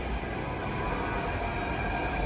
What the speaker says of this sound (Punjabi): ਲੋ ਜੀ ਆਪਣੀ ਮੈਟਰੋ ਆ ਗਈ ਹੈ